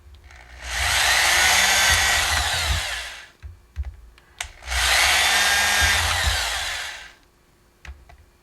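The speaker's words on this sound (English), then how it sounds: "Drilling all these holes can get a little tricky, and that's why I start off with a 1/8 drill bit just to punch a hole through the can" Power drill with a 1/8 inch bit punching holes through a metal can, two sustained loud whining bursts of about three seconds each, close up, separated by a brief pause, with no talking.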